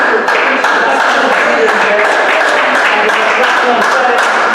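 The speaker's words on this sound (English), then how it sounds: "No, just clap for him, it's fine." Audience at a music business networking session clapping for a producer, a dense, steady round of applause from a crowd, loud and continuous throughout.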